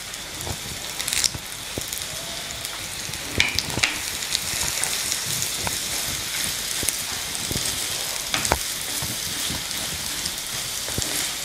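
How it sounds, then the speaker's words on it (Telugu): Onions, green chillies and curry leaves fry in hot oil for a brinjal mutton curry, giving a steady, close crackling sizzle with scattered sharper pops and occasional stirring clicks, with no talking. "ఉల్లిపాయలు వేగుతున్నాయి."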